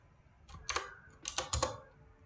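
A few quick keystrokes typed on a computer keyboard to enter a git clone command, soft clustered clicks close by in a quiet room.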